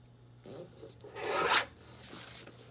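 A sheet of masterboard paper being cut in half: a short rasping, tearing swipe that builds and cuts off abruptly, up close and alone over low background hum.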